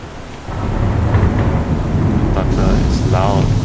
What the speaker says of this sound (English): Thunder is loud.